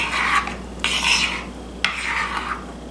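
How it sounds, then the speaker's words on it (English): A knife swirling cream cheese through brownie batter, run back and forth in a pan: soft close scraping and rubbing strokes in two or three passes, with a brief sharp tap between them. "Then what we're going to do is just swirl it with a knife. I'm just going to run it back and forth."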